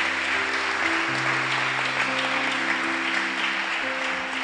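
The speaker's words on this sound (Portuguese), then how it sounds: "Palmas para o Senhor Jesus." Church congregation applauding during a Portuguese-language sermon, steady close clapping that runs throughout, with sustained musical tones held underneath.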